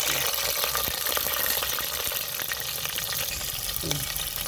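Green chillies dropped into hot tempering oil with fenugreek and cloves give a loud, dense, continuous sizzle and crackle, close up, with scattered pops throughout.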